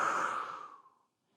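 A single long, soft breath out during a pelvic floor exercise, strong at first and then fading to silence after about a second, close and alone.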